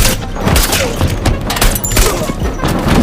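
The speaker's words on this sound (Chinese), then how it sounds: "亚瑟直接开始了屠杀" Gunfire in an action movie shootout on a cruise ship, dense bursts of shots and thuds amid score and chaos, with a narrator speaking over it.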